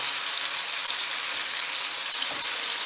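Miruna fish frying in a pan, a steady close sizzle that stays even throughout with no talking.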